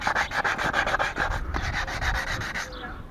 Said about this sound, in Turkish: jantımızı zımparalıyoruz, pasli yerlerini